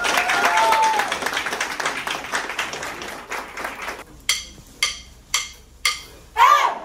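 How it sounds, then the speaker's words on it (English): Applause from the audience at a talk on marketing a clothing brand, starting as a steady wash of clapping that later breaks into several separate bursts. Speech-like sounds are mixed in. "Round of applause,"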